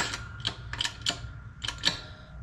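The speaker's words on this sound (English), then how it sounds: "Go ahead and press that pin into the housing." Metal pin pressed into a GM 200-4R automatic transmission housing during a rebuild, giving a series of short, sharp metallic clicks and creaks spaced irregularly, close up and fairly quiet, with no talking.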